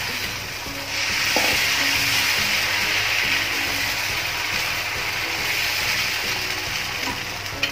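Uttapam batter sizzles steadily in oil on a hot griddle, a loud, even hiss that holds for several seconds, with faint clinks and a low background hum.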